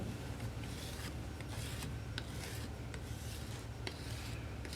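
Someone smooths the sides of a hard slab by hand, giving a steady, close, continuous rasping rub with faint repeated strokes and scrapes throughout.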